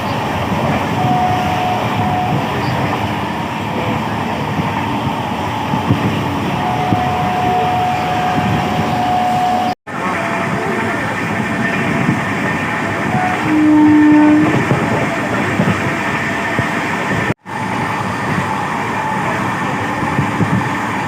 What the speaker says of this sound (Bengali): আমরা ট্রেনে উঠে পড়েছি